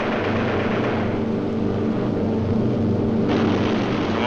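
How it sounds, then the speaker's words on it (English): A World War II B-17 Flying Fortress bomber's piston engines drone steadily and loudly throughout, a constant layered rumble with no voices. "B-17 out of control at 3 o'clock"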